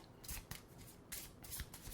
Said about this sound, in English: shuffle them back into the main deck